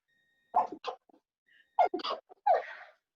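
Two sneezes in succession, close and sharp, each with a quick breathy intake before the burst, followed by a short sniffly exhale.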